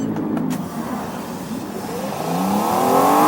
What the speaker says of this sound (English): We'll get closer to the pressure washer.